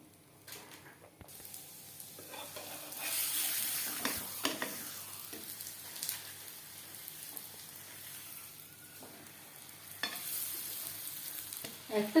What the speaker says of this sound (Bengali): ভাজবো হাই টু মিডিয়াম ফ্লেমে একটা